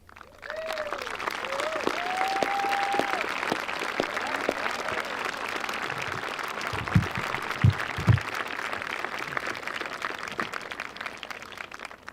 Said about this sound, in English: Can we have the moms and dads stand up of the graduating class for a round of applause?